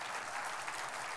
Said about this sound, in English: Let's give them a round of applause and congratulate them.